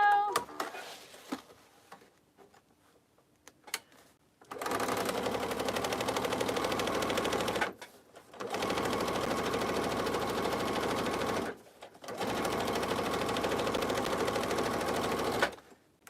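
A sewing machine stitches a quilted tote exterior in three long, steady runs of rapid mechanical whirring, separated by brief pauses, with some faint handling clicks before the first run.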